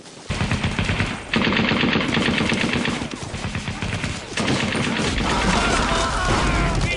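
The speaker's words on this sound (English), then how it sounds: "Get back on that machine gun." Sustained machine gun fire in the World War II game Brothers in Arms: Road to Hill 30, loud rapid bursts running almost nonstop with heavy impacts mixed in.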